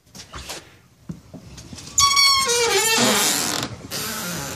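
A door creaks open with a long, rising squeal after a few footsteps, the creak loud and close, trailing off into quieter shuffling as someone walks through.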